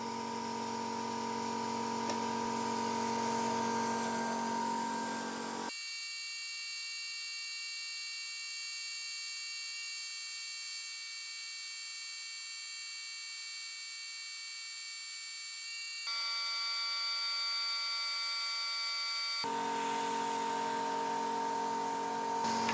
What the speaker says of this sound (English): the exhaust fan on and the Jiccoda air pump at full speed